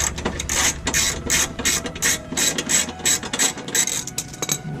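Ratchet wrench clicking as it loosens fog light bolts on a 2006 Dodge Ram 2500 Mega Cab, rapid close mechanical clicks in quick repeated bursts, loud and alone.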